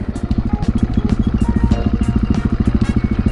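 Motorcycle engine running steadily while riding on a non-highway route, a loud, close, rhythmic pulsing exhaust note that continues without a break.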